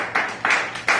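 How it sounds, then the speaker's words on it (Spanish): Audience clapping in a church during a Christmas-season service, heard as three short bursts of hand claps that swell and fade, fairly loud and close, with no talking. "Dale el mayor de los aplausos al que vive para siempre."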